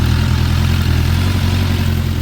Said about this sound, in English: it idles perfectly, and there's no black smoke coming out